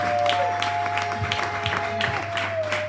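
A church congregation applauds during a French-language worship service, with dense, continuous clapping and crowd noise over a steady sustained tone throughout.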